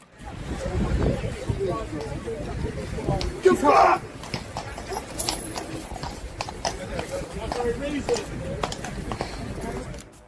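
Hooves of a Royal Guard horse clip-clop on pavement, mixed with crowd noise and a brief sharp commotion, while a voice talks over the steady footfalls.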